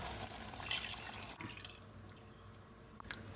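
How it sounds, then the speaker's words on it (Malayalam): Coconut milk poured into a Kerala-style potato stew, a soft liquid trickle and drip running steadily in the pot, moderately close, with no talking. "ഇനി ഇതിലേക്ക് തേങ്ങാപ്പാൽ ഒഴിച്ചു കൊടുക്കാം"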